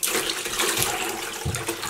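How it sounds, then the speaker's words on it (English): Vinegar pours into a dye pot with a continuous splashing, gurgling rush of liquid that stays close and fairly loud for the whole moment. "Just pour some vinegar in"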